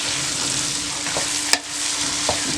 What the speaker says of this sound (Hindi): इसमें दाल को आप मिक्स करें अच्छी तरह से